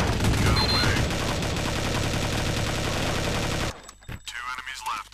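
Heavy gunfire in Counter-Strike: Condition Zero: rapid automatic bursts and overlapping shots pour out loud and continuous, then cut off abruptly, leaving a few sparse sharp reports and quieter game sounds.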